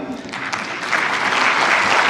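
An audience at a gender equality certification and awards ceremony begins clapping, the applause swelling from scattered claps into a full, loud round within two seconds.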